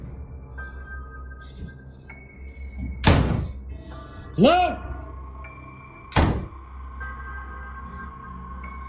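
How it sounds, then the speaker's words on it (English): A door slams hard three times at uneven intervals, each a loud, sharp bang with a booming tail, against a quiet indoor background where a voice briefly calls out. "It then starts repeatedly slamming the door."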